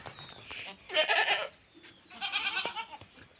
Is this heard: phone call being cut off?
no